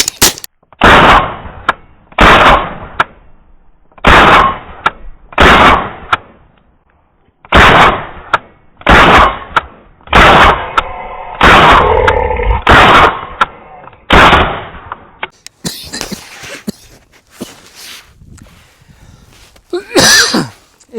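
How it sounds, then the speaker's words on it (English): A Radical Firearms rifle fitted with a YHM Turbo K-RB suppressor fires about ten loud, close shots at uneven spacing, each a sharp crack with a brief tail, followed by quieter outdoor handling noise. "Let's go back over to this Radical firearms and shoot 10 rounds through it."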